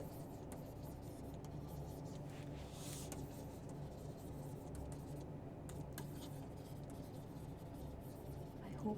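Pens scratching steadily across paper as students write, a soft continuous scribbling texture at low level with faint murmurs in the background.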